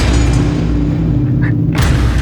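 A single loud gunshot bursts out in a Hindi crime drama scene, a sharp close crack over a heavy, steady music and ambience bed.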